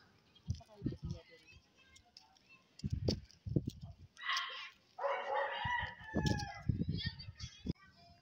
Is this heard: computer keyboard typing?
no